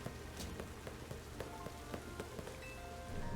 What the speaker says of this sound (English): it's raining, so there's puddles in the ground and you hear the splishy splashy running around